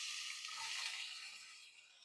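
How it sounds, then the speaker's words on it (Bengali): Potatoes frying in oil in a pan for a Bengali rui fish oil patori, a steady soft high sizzle holding through the whole stretch with no talk. "প্রথমে আমি তেলের সাথে আলুগুলি ভেজে নেব।"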